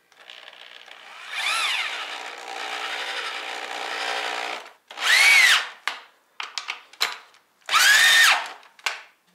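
A hammer drill drives a 9/16 socket while building boat bunks on a trailer. One long whirring run is followed by several short, loud bursts that rise and fall in pitch, with pauses between them.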